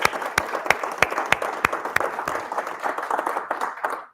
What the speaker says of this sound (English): Let's all applaud.